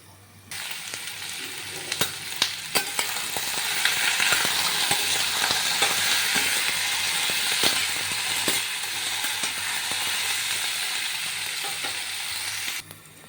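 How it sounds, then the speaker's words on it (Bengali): Potato and eggplant pieces fry in a pan with a steady close sizzle, faint clicks of stirring scattered through the bright crackling hiss, which starts and stops abruptly. "আলু আর বেগুনটা বেশ সুন্দর একটু একটু করে ভাজা ভাজা হয়ে গেলে তারপর আমি শাকটা দিয়ে দেবো"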